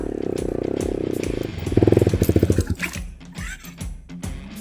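Motorcycle engine labouring on an uphill dirt trail, a steady low drone that surges into rapid pulsing revs before faltering and sputtering out amid rustling and clatter.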